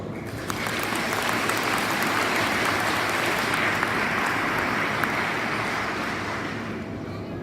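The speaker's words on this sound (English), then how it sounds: "Please give them a round of applause as well." Audience applause at a Department of Defense fire department ceremony: a crowd claps loudly and continuously for about seven seconds, a thick even patter with a few sharper individual claps standing out.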